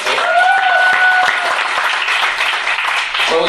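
Guests at a launch party clap in a lively, continuous burst, with a brief cheer over the start and the applause holding fairly loud before tapering near the end.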